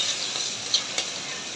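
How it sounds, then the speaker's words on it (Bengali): Chopped onions fry in hot oil, a short, even sizzling hiss with a couple of faint utensil taps, and no voices. "গরম হয়ে গেছে, এখন পেঁয়াজ কুচিগুলো ভালো করে ভেজে দিই।"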